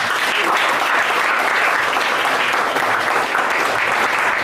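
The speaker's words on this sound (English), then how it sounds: "Round of applause, please, guys." Loud, sustained applause from a room of colleagues at a team meeting, dense steady clapping filling the whole stretch without pause.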